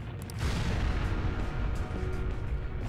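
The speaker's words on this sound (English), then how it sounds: "An explosion?" A loud, sustained explosion rumble from the video game Persona 5 fills the whole stretch, dense and booming with crackling bursts at the start, and no speech over it.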